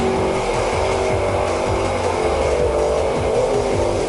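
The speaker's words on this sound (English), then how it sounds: "Lee Darby in the left-hand lane in the Chevy pickup and Paul Jackson in the VW powered dragster in the right-hand lane." Drag race at a Bug Jam meet between a Chevy pickup and a VW-powered dragster: a loud continuous engine roar fills the track, with rough rising and falling revs and no talking.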